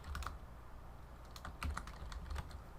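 Keys clatter on a computer keyboard as a name is typed into a Photoshop text box, a few quick bursts of clicks close by with short pauses between them, no voices.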